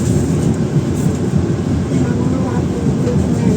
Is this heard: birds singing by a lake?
no